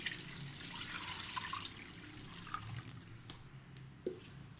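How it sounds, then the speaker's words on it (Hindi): Water is poured over about a kilogram of raw chicken in a pot to make stock; a soft, steady splashing trickle with a few drips, faint and close, and no speech. "इसके अंदर मैं 7 से 8 ग्लास पानी ऐड करूँगी।"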